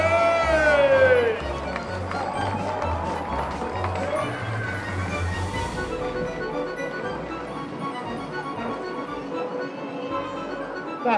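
Spectators at the Oban Raft Race cheer and shout in a loud outdoor crowd, with a whistle-like tone at the start and steady crowd noise running throughout.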